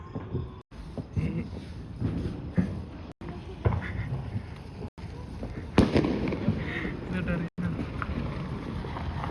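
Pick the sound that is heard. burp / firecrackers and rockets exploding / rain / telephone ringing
firecrackers and rockets exploding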